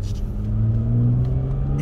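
A healthy, hard-pulling car engine accelerating with a mechanical-sounding low drone that rises steadily in pitch, loud and close throughout the short stretch.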